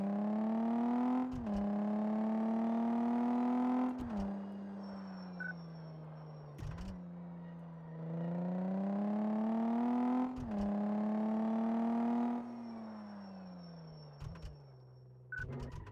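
A car engine in the Car Mechanic Simulator 2014 game on a test drive revs up through the gears in repeated climbs, each ending in a sharp drop at the shift, loud and close with no talking.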